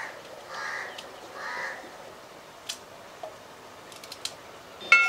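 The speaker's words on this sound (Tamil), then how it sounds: "காக்கா காலையில் வந்துடுச்சு." A crow caws twice in the morning, fairly close and clear, over a quiet background with a few small clicks and taps around a kitchen.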